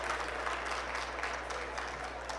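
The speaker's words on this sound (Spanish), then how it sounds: "La despedimos con fuertes aplausos" A conference audience applauds a speaker at a nursing research event. The clapping is a dense, even patter from a crowded hall, steady for a couple of seconds, with a low hum underneath.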